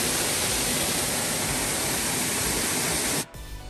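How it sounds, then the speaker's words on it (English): Salitral waterfall at Gozalandia in San Sebastián, Puerto Rico, a thin falls, pours in a loud, steady broadband roar that cuts off abruptly near the end. "This waterfall is thin but very nice."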